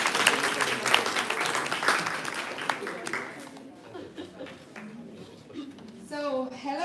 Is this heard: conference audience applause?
yes